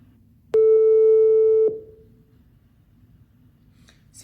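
A single telephone ringing tone sounds for about a second, a loud steady electronic beep that cuts off abruptly and leaves a quiet line.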